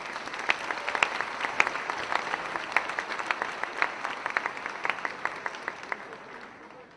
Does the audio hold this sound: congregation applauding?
yes